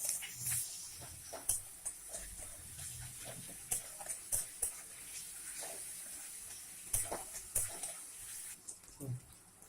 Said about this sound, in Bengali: এবার আমি আদা রসুন বাটা দিয়ে দিচ্ছি